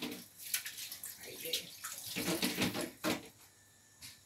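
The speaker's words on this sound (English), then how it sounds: "then I'm going to wash my hands" Hands being washed under a running kitchen tap, with splashing water in uneven bursts and rinsing surges, moderately close and fairly quiet, with no talking.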